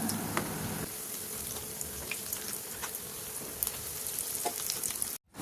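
Bread-based snacks fry in hot oil with a steady, even hiss and fine crackle that holds throughout, then cuts off abruptly at the end.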